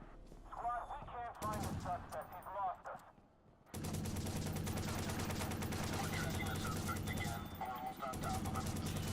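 Rapid automatic gunfire from the Watch_Dogs video game rattles in dense bursts, with a brief lull before a long sustained stream of shots.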